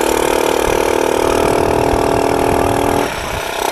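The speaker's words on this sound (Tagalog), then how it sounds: "Third gear pa yan mga sir, pero umaakyat na." Car engine climbing uphill in third gear on a Cordillera mountain road, a loud steady mid-pitched engine hum that holds for about three seconds, then drops off abruptly.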